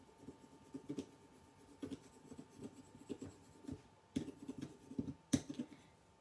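A pencil scratches and scribbles across paper while colouring a simple daffodil flower image, quiet close strokes coming in short irregular bursts separated by brief pauses.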